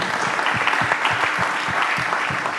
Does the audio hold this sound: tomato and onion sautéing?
no